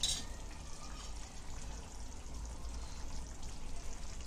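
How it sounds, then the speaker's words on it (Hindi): Boiled potatoes tipped into a pot together with their cooking water, a soft continuous pouring and sloshing of liquid, fairly quiet and close, with no voices. "आलू को हमने पहले से उबाल के लिए और आलू के पानी के साथ हमने डाले।"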